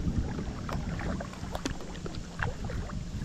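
Kayak paddling on the Sassafras River in Maryland, with soft, irregular water splashes and paddle dips over light wind noise, fairly close and without talk.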